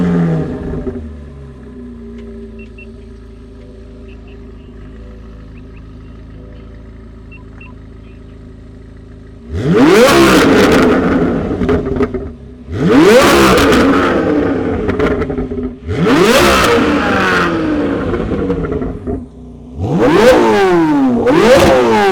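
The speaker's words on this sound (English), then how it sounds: "now we're gonna let the C8Z06 do its thing" A Chevrolet Corvette C8 Z06 idles quietly, then erupts into four loud, sweeping revs and accelerating pulls, each rising sharply in pitch before dropping back, with brief pauses between them.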